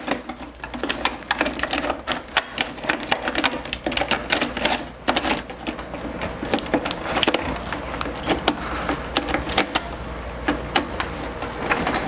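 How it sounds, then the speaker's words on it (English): Ink cartridges from a continuous ink system snap and click into a Brother LC201-series printer, giving a steady run of close plastic clicks, taps and rattles with mechanical whirring underneath. "we're gonna install the cartridges"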